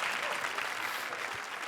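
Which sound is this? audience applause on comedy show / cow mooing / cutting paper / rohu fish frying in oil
audience applause on comedy show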